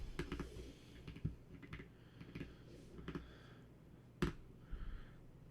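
Rapid keystrokes clatter on a computer keyboard in uneven bursts, close and fairly quiet, with a few sharper clicks standing out and no talking.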